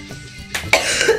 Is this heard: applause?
no